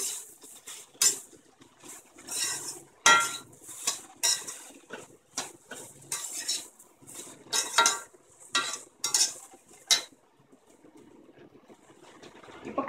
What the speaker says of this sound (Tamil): கிளறி விட்டுடணும்.